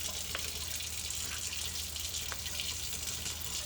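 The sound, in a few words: water added to batter mixture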